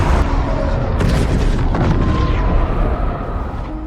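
A tunnel blown up in a war film, a loud rumbling explosion with heavy low boom and crackling debris sustained over several seconds, then slowly fading.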